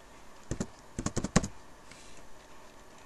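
Keys tapped on a computer keyboard while working in statistics software, a short burst of about half a dozen quick clicks close by, with quiet between.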